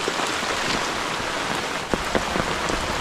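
Steady rain pattering on a hard surface, with scattered louder drops standing out against the constant wash of rainfall.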